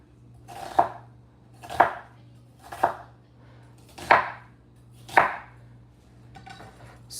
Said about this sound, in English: We are going to go ahead and cut the onion. We'll be using a purple onion.